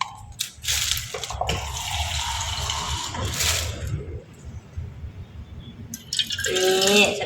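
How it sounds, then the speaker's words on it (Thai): Water is poured in small amounts onto food mixed with fermented fish, a close trickling and dripping with gurgling splashes that come and go, louder near the end. "เอาน้ำใส่นิดหน่อยจ้า"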